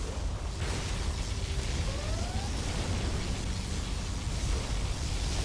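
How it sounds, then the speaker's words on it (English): A sustained particle cannon blast from the strategy game Command & Conquer Generals Zero Hour, a loud, steady roaring wash of noise with faint rising tonal sweeps, continuous throughout and without talk. "Particle cannon activated"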